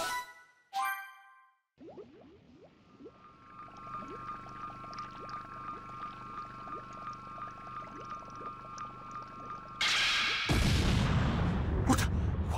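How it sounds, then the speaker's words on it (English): Explosion in Dragon Ball Z Kakarot: after chiming tones and a quiet humming stretch, a loud roaring blast erupts near the end and keeps rumbling, with no voices over it. "What was that explosion just now?"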